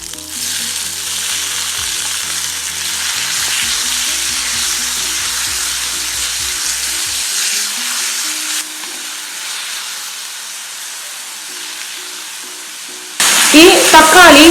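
Tomatoes sautéing in oil in a kadai for a prawn masala, a steady close sizzle with low rhythmic scraping from stirring for most of the stretch, then a sharper, louder burst of frying near the end; no speech.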